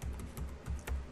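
CLI commands typed on a computer keyboard while configuring a Stratix 5700 switch, four soft muffled keystrokes in quick succession, quiet and close with no speaking.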